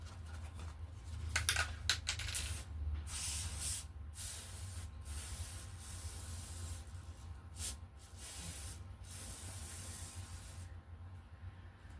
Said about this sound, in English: glue sprays everywhere until you figure out where you're spraying it